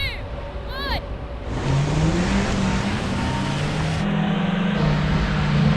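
A car engine revs hard and climbs steadily through the gears, loud and close, with a brief squeal at the start.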